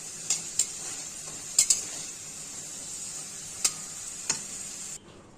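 Potatoes frying in hot oil in a pan give a steady, bright sizzle, with a few sharp utensil ticks against the pan, until the sizzle cuts off near the end.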